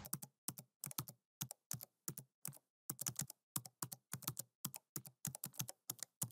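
Typing on a computer keyboard while entering a slide title in PowerPoint, quiet close-up keystrokes in quick irregular bursts, each tap sharp and distinct against near silence.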